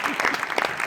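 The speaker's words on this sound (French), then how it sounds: "On peut applaudir." A short burst of audience applause at a student entrepreneurs' pitch event on innovation for the Grand Paris Express. Dense clapping lasts under a second, with voices faintly mixed in.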